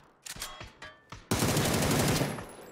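Gunfire from a gun in PUBG: a few spaced single shots, then a loud, sustained burst of rapid automatic fire that cuts off, heard close and with no talk.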